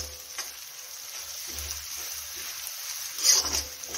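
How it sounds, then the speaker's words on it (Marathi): Leftover rice with capsicum and cabbage stir-fried in a pan, a steady close sizzle with soft scraping stirs that rise briefly near the end. "शिमला मिरच, कोबी पण मिक्स करून घेऊया तसंच आणि सर्व फिरवून घेऊ"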